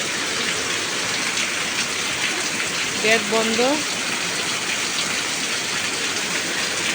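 Rain drums steadily on a tin shed roof, a dense, even hiss that runs through the whole stretch, with a brief voice speaking midway.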